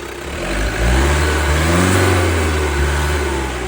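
An Alfa Romeo Giulia 2.2 JTD 16V diesel engine with eight-speed automatic revs up from a low hum, holds a loud mid-pitched roar for a few seconds, then eases back down.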